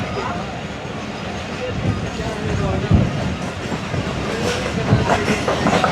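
The 18DN Millat Express passenger train rolling on rails in Sindh between Mehrabpur and Karachi, with a steady rumble and clattering wheels heard from on board, and voices talking over the noise.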